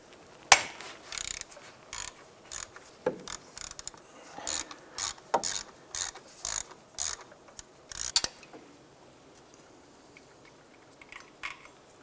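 A ratchet with a 12mm socket and extension loosens a bolt beneath the power steering pump pulley of a 2006-2011 Honda Civic, making repeated short clicking bursts in an uneven rhythm, close and alone.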